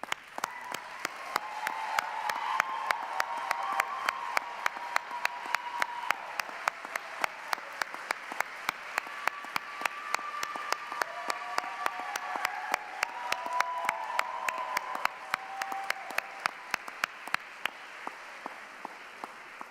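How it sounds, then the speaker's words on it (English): A commencement audience at the Cornish College of the Arts 2025 ceremony claps steadily for staff and faculty, a dense, even patter of many hands sustained for about twenty seconds at moderate distance. "let's congratulate our staff and faculty for a second and give them a round of applause"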